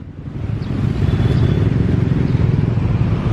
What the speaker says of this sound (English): an ojek ride.